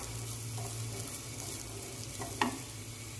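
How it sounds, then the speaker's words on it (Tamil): Grated coconut sautés in melted ghee in a pan for banana boli, a soft, low steady sizzle with a single brief utensil clink. "சேர்த்து நல்லா கொஞ்சம் வதங்கட்டும்"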